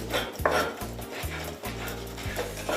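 Boiled egg whites are rubbed across a coarse grater in quick, evenly spaced scraping strokes, about one every half second, close up over a low steady background hum.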